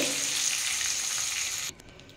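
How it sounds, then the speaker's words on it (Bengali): Flat beans and capsicum fry in a wok of hot oil, giving a steady, close hissing sizzle that cuts off abruptly near the end, leaving only faint crackles. "আমার সিম আর ক্যাপসিকামটা মোটামুটি ভালোই ভাজা হয়ে গেছে"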